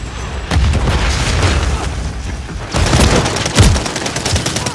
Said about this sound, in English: Gunshots don't hurt you.